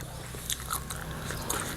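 Someone bites into food with spicy chili, giving a few soft crunchy bites and chewing sounds close up over a low background hum, with no talking.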